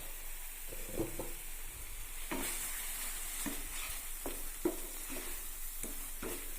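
Masala sautéing in a pan for a Kerala potato curry, with a steady sizzle and repeated scraping stirs of a spoon against the pan, close and fairly loud, with no talking.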